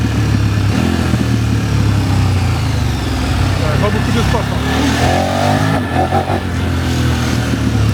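A KTM 1290 Adventure S motorcycle engine downshifts with loud, rising and falling revs, close and continuous, while a rider talks over it.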